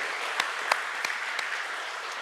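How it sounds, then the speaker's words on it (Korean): A church congregation applauds during a church anniversary service, a soft, steady wash of clapping heard from a distance with a few sharper claps standing out now and then. "하나님 앞에 영광의 박수 한 번 더 올릴까요?"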